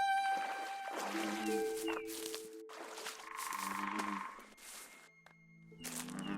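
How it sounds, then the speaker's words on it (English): Frogs croak faintly in the water near Walden Pond, with scattered calls and tonal chirps coming and going against a quiet outdoor background. "You hear the frogs in the water."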